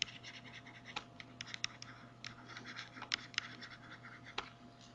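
Handwriting with a pen on paper gives quiet, close scratching strokes in short irregular bursts over a low steady hum.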